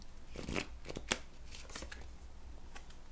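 Oracle cards shuffled and drawn from the deck, a soft rapid riffle of flicks and a sharper snap, close and quiet, with no one talking.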